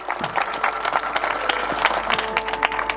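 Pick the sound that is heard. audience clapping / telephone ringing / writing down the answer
audience clapping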